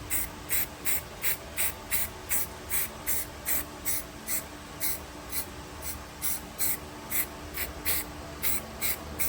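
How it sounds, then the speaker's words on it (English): Short rhythmic bursts of spray-can primer being applied to a car steering column on a 1987 Monte Carlo SS, a steady series of close hisses about once a second with no talk. "I'm just putting a primer on this steering column."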